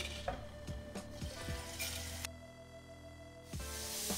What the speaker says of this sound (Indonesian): Ini kita tumis sampai wangi.